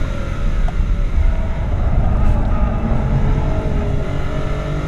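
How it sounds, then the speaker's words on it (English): A 2016 BMW 750i G11 sedan drives hard uphill with its V8 pulling high revs near the limiter, a loud, steady engine drone mixed with road and wind noise from inside the cabin. "I'm actually running out of revs there. I gotta watch the rev limiter."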